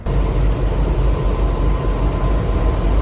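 A train idles at the Adelaide terminus, giving a loud, continuous low rumble and engine drone close by with no voices, the noise steady throughout.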